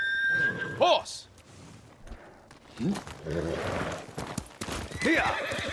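A horse in the game Ghost of Tsushima whinnies loudly a couple of times amid hoof clops and thuds, with sharp punctuating noises in between.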